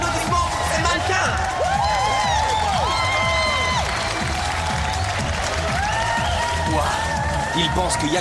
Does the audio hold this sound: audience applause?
yes